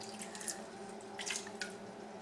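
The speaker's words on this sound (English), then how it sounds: "I have about 3/4 of a cup of water here. I'm probably just going to put about 1/3 of that." Water is poured into a pot of chicken adobo with ginger, a short trickle with light splashing and dripping, close and fairly quiet.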